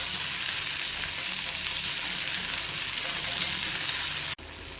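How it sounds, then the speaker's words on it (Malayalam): Potato and brinjal fry stirred in a pan, giving a steady, loud, close sizzle that runs unbroken and stops abruptly near the end, with no voices. "ഇതിന് ഒന്ന് ഇളക്കി കൊടുത്ത ശേഷം തീ ഓഫ് ചെയ്യാം."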